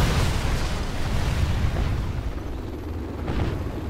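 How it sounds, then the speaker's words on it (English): Inferno cannon artillery fire in the Command & Conquer Generals video game, a dense, continuous roar of explosions and booming blasts that stays loud throughout with no voices. "Inferno cannons loaded."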